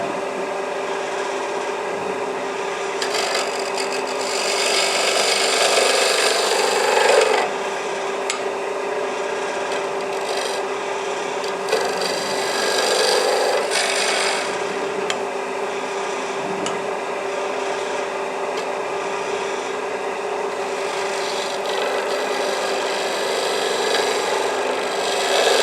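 A homemade dovetail-cutting tool works wood for an inlay platter, producing a continuous close grinding rasp that grows louder in several bursts of heavier cutting before easing back to a steady drone.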